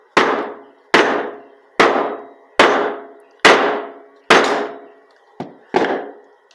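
Seven sharp, hard hammer blows strike a block of hard microcrystalline wax at a steady pace, each thud ringing briefly before the next; the last two come closer together.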